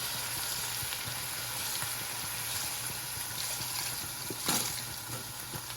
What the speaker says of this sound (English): And we're gonna start just adding in broth.